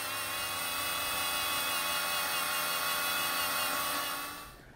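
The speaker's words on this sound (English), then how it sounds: "I've changed the sanding disc for a wire cut brush. It's a lot stronger, that one, and should tear off the paint" A power tool fitted with a wire brush in place of a sanding disc strips paint, giving a loud, steady, high-pitched whirring grind that runs without a break and fades at the end.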